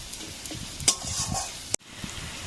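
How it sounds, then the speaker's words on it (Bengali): Onions fry in hot oil in a wok, giving a steady close sizzle with a few scraping stirs and a sharp metallic clank of the utensil near the end. "পেঁয়াজ ভাজা হয়ে গেছে, আর পেঁয়াজ ভাজবো না।"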